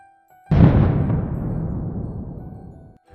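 A sudden loud explosion destroys cannons, followed by a long rumbling roar that slowly fades away over a few seconds.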